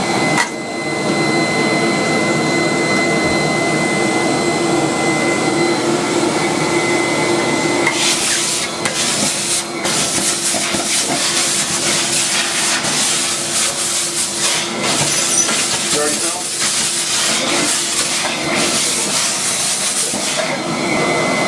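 Floor extractor machine with an upholstery tool wetting, sanitizing and sucking up water from tile floor, a loud steady vacuum roar joined partway by hissing, gurgling suction bursts that continue close by.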